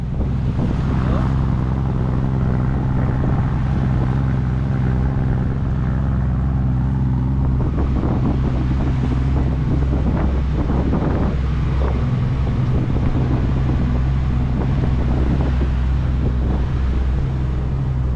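A constant low boat engine drone at sea on rough water, fully loaded, with heavy wind buffeting and rushing, splashing water throughout, loud and unbroken.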